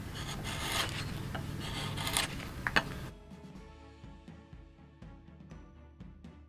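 Rasping abrasive strokes of sanding over a carved sculpture after chisel work, dense and steady for the first half, then thinning to quieter scattered scrapes and taps.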